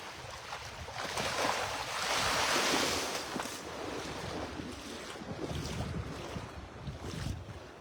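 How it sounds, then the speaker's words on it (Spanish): Calm sea waves wash onto the sand at Playa El Manzano in Quintero, a steady surging rush with gusting wind noise on the microphone and no voices. "Está tranquilito el mar, miren, mar de Quintero."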